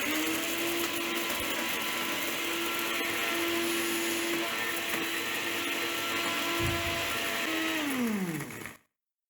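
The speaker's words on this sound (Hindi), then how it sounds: "अभी हम इसको ग्राइंड कर लेंगे।" An electric grinder whirs loudly and continuously while grinding biryani masala spices coarsely, with a steady motor whine that winds down and cuts off at the end.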